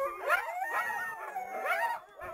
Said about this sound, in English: Here's coyote sounds.